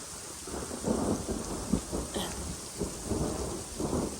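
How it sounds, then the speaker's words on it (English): Rain falling steadily outdoors on a hiking trail during a thunderstorm, with low rumbling thunder rolling in and out across the whole stretch, no voices. "It's turning more to rain now, so I'm getting wet and cold. There was just a crack of lightning that was really fucking close."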